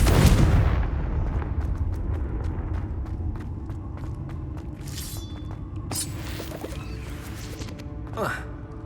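Confringo fire spell explosions in the Hogwarts Legacy video game, a heavy boom at the start followed by rumbling crackle and several sharp bursts and pops later on, with brief game sounds in between.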